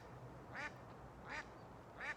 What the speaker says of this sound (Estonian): Part teeb oma tööd.